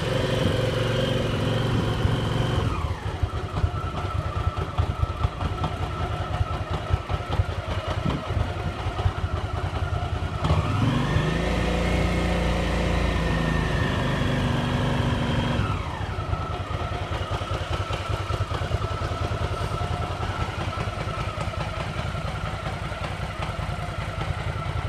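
A GV650 motorcycle engine idles with its choke open, a steady mid-pitched running note with clattery texture that holds close and loud throughout, rising briefly in revs around the middle before settling back.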